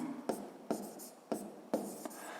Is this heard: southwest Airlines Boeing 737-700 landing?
no